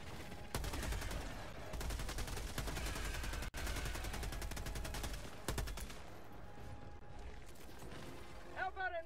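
Sustained automatic gunfire in Helldivers II, rapid continuous bursts with a brief break and some mechanical clicks, loud and close, with a voice speaking at the end.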